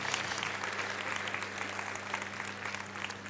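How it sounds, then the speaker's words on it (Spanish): A church congregation claps together during a service, steady applause sounding faint and a little distant from start to finish beneath a low hum. "Un aplauso al Señor."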